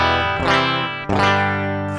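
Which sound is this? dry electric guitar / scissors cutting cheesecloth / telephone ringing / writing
dry electric guitar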